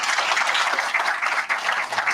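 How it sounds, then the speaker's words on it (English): Steady, dense applause from an audience, a continuous wash of clapping at fairly loud level with no pauses. "a huge round of applause for our sponsors"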